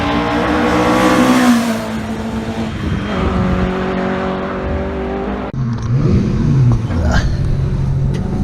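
Onboard a Lotus Cortina race car during testing at the Goodwood Members Meeting, the engine roars loud and close, climbing and falling through revs and gear changes, while a voice talks over it.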